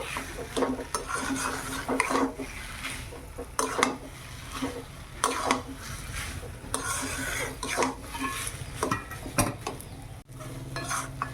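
Vegetable chop filling stirred in a pan, with repeated scraping and clinking of a spatula against metal over a low sizzle, close and fairly loud, steady throughout with no talk.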